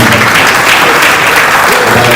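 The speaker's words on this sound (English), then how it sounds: "Please clap for them." Loud, dense audience applause at a business summit for small enterprises and start-ups, a continuous close wash of many hands clapping with no voices.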